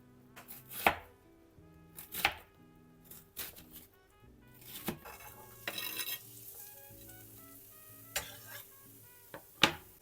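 A knife roughly chops an onion into large pieces on a cutting board in irregular, sharp knocks, close and fairly quiet, with soft kitchen background between strikes.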